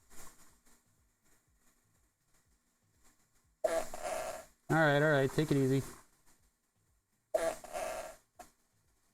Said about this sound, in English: That's the same fart twice.